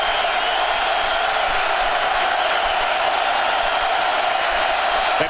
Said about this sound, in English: You can hear this crowd getting behind that Scarlet Knights D.